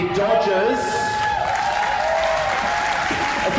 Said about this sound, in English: give a big round of applause to our runners-up, the Dodgers.